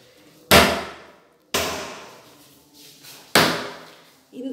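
A kitchen window shutter is closed with three sharp, loud bangs spaced about a second apart, each ringing and fading before the next, with a faint knock at the end.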